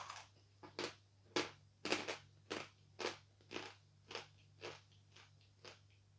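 Sawn chalk is bitten and chewed close up, giving about a dozen sharp, dry crunches in a steady rhythm over a low constant hum, with no talk.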